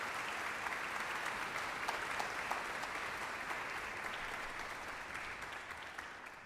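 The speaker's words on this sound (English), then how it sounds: "Can we get a quick round of applause for all the people who worked behind the scenes?" Steady applause from a concert audience at a high school honor band performance, dense clapping of many hands filling the hall, sustained throughout and slowly fading at the end.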